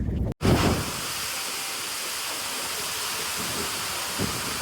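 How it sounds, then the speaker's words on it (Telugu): Heavy rain falls at a railway platform in Hyderabad, a broad steady roaring hiss that starts abruptly after a brief silence and carries on evenly and loudly throughout. "అంతలోనే జోరువాన."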